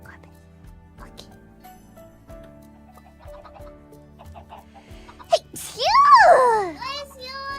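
A hololive VTuber lets out one sharp, sudden sneeze amid quiet chatter, followed right after by a loud, high-pitched vocal outburst; speech is present.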